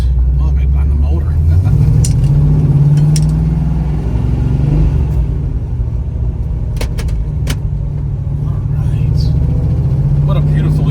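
A 1979 Pontiac Trans Am with four-speed and T-tops off, driving on an evening road: a loud, steady low engine drone with a brief rise as it pulls, heard from inside with someone talking over it.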